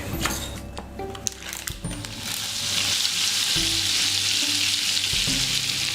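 Beef for tagliata sears in butter with a rosemary sprig in a hot pan, a loud steady sizzle and crackle close by, with a few metallic clinks of utensils early on.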